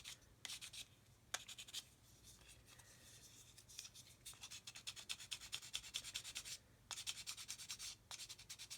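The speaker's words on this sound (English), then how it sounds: "Again, use this sander to get in there." A flat sanding bar rubs back and forth across a plastic model in quick, quiet rhythmic strokes, close up, with brief pauses between runs of scratchy passes.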